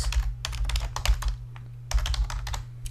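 Computer keyboard keys and mouse buttons click in quick irregular clusters while working in photo-editing software, close and distinct over a steady low electrical hum, with a short pause midway.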